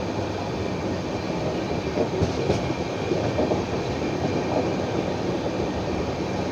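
Howrah–Sainagar express train 22893 rolling slowly near Bhusawal, a steady close rumble of wheels and carriage with faint rail clatter, continuous throughout with no voices.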